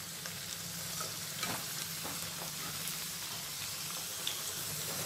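Sweet corn kernels frying in hot oil give a steady, quiet sizzle that holds evenly throughout, with faint stirring noises and no voices.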